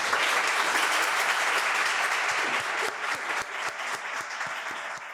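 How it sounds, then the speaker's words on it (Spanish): Studio audience applause for a guest at the close of a Spanish-language investing podcast episode, a steady, bright patter of many hands clapping that holds fairly evenly, easing slightly near the end. "un aplauso para Juliana Matiz."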